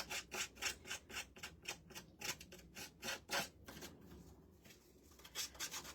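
Scrapbooking paper being scuffed up, giving a quiet, rapid series of rhythmic rubbing strokes that slow and thin out toward the end, close and alone.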